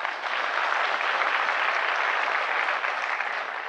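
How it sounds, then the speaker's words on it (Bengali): An audience claps in honour of Kulin Desai, a full, even round of applause that lasts the whole moment and then trails off slightly. "কুলিন দেশাই নামে একটা হাততালি আমরা দিতেই পারি।"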